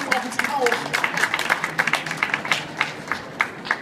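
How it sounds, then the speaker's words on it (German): Scattered audience clapping at a talk at the Frankfurt book fair. The claps are sharp and irregular, close to the microphone, with voices murmuring in the background. "Das klatscht, klatscht."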